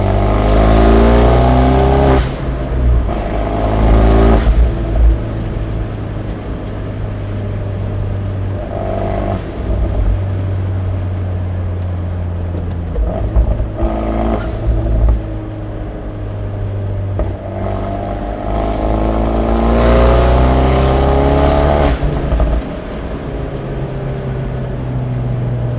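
An Abarth 124 Spider on a midnight drive, exhaust valves open, revving loud and close with repeated rises and falls in engine pitch and burbling on the overrun, heard from inside the car with no talk.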